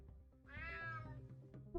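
A cat in the retro-styled game UnMetal lets out a single clear, rising-then-falling meow, close and fairly quiet, followed by a soft thunk.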